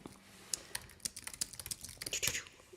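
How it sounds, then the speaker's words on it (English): Rapid clicking keystrokes on a computer keyboard, dense irregular taps in quick bursts, close and fairly quiet, with no voices. "That was like super fast typing."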